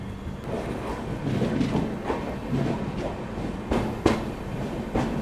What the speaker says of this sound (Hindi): यहाँ पर अपनी ट्रेन ने जो है बेगूसराय स्किप किया है